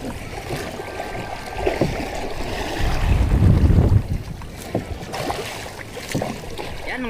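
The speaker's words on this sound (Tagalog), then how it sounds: "Plastada ng alon, malalaki ang alon ngayon." Big sea waves slapping and surging around a small fishing boat out on rough water, with wind buffeting the microphone and a heavier crash of water in the middle.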